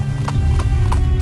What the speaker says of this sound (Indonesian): Suara derap langkah kaki kuda seringkali melintas pada malam-malam tertentu.